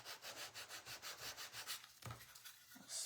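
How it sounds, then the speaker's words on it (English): A wooden craft piece is hand-sanded in quick, rhythmic back-and-forth strokes, about a dozen even rasps close up and fairly quiet, with a short pause near the end before the rubbing resumes. "All right, let's sand that"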